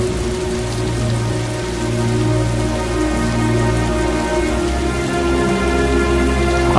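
Heavy rain falls steadily as a loud, dense hiss throughout, with a low rumble underneath and no voices.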